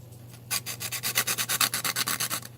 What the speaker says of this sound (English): I took an old UMP buffer and I stick my sandpaper on it